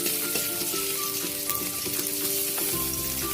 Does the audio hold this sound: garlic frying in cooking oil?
yes